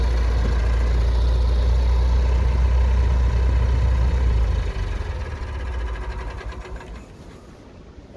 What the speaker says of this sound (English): This is a Max 4 amphibious vehicle.